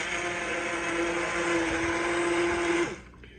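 An immersion blender purées hot broccoli and cheddar soup in a pot, giving a close, steady whirring motor drone that runs for nearly three seconds and then cuts off abruptly.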